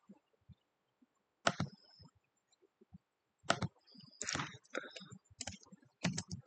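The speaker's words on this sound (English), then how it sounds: "Let's type it here." Someone types on a computer keyboard in a quiet room. Sparse, soft clicks come singly and in short clustered bursts with pauses between them.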